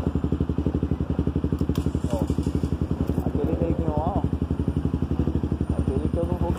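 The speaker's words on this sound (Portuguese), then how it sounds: "Vou deixar ele abastecer a motoca aí." A motorcycle idles steadily at a gas station during refueling, its even, pulsing putter running throughout at close range while people talk over it.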